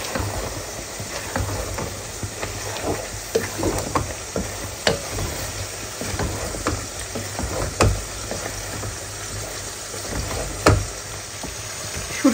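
Pointed gourd and potato pieces frying together in a pan with shrimp, a loud continuous sizzle broken by stirring scrapes and occasional clinks, no talking.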